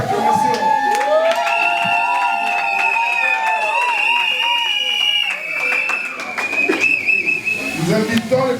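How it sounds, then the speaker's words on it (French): Guests at a civil wedding ceremony cheer, whistle and clap together, a loud, sustained crowd roar with bright whistles and ululation-like calls close by. "Vous voulez manifester par les vibrantes acclamations."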